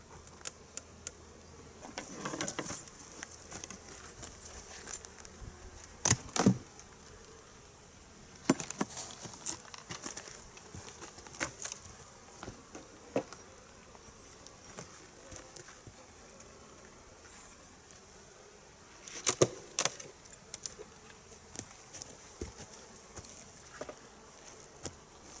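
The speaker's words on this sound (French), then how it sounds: "il y a quelques abeilles, mais il n'y en a pas énormément" A few honey bees buzz faintly around a hive, a soft, intermittent drone broken by scattered sharp clicks and taps over quiet outdoor background.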